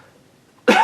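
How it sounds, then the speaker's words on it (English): A single sharp cough bursts out close to the microphone after a near-silent pause. "I'm going to cough again"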